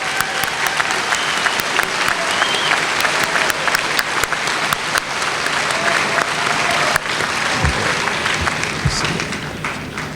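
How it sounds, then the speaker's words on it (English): Audience applause for honor students at a 2017 W.F. West High School graduation ceremony, a dense, steady wash of clapping from a large crowd sustained throughout at full volume. "Our honor students, let's give them a round of applause."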